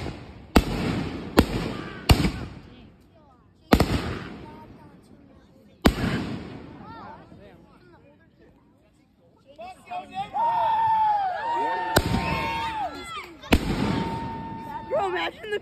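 Fireworks bursting outdoors in sharp, loud bangs spaced a second or two apart, then crackling and whistling effects, with people chatting and reacting throughout.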